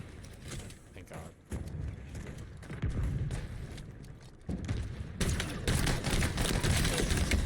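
Rapid pistol fire crackles in a Halo Infinite Big Team Battle match, bursts of shots and booms rising and falling amid game noise, with a player talking over the action.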